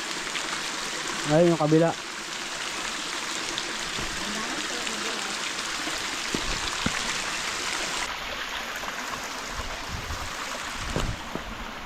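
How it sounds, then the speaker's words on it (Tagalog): Strong water flows steadily from a source on a farm lot in the Philippines, making a constant broadband rushing. Someone speaks briefly near the start. "yung ganito nga po kalakas na tubig kaya nang makapuno ng swimming pool"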